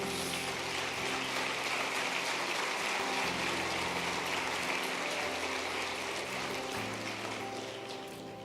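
A church congregation applauds in praise, a continuous rain-like wash of many hands clapping over steady sustained musical tones, fairly faint and tapering slightly at the end.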